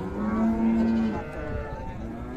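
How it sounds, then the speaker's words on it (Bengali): A two-tooth Friesian dairy cow at Raniganj cattle market in Dinajpur lets out one long, deep moo close by, with faint market murmur in the background. "2 দাঁত বয়সের গাভী।"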